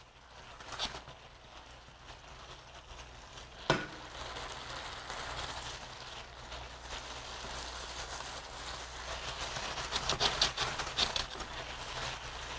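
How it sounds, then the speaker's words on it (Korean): Oysters fry over high heat in a pan, giving a continuous crackling hiss. A sharp knock comes early on, and the sputtering grows busier and louder toward the end. Close and fairly quiet. "이렇게 해서 센 불로 유지하면서 굴이 살짝 익을 때까지 조금 익혀줄게요"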